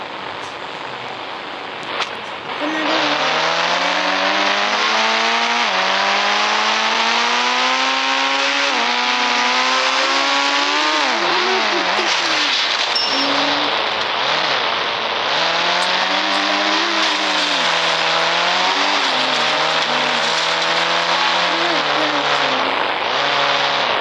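A video game car starts after a short quiet moment, then its engine revs loudly through repeated rising pitch sweeps as it shifts gears, with dips and climbs continuing throughout.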